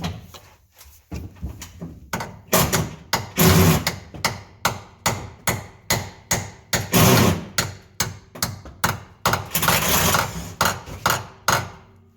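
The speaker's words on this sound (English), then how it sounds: "Smack it with a hammer." Repeated hammer strikes, loud and close, in a steady rhythm with short bursts of faster blows; no talking.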